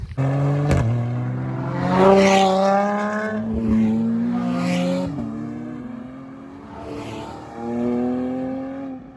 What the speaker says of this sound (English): Some of these cars are absolutely ripping it past me.